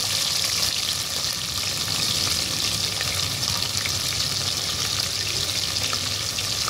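Green chilies and chopped onions fry in oil in a pan while cooking chicken pulao, giving a steady, dense sizzle that holds at an even level throughout with no talking.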